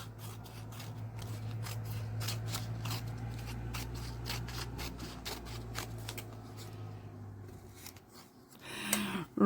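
Paper is cut out by hand for junk journal page edges. The close, steady run of repeated snipping and rasping strokes sits over a low hum and ends with some louder handling noise.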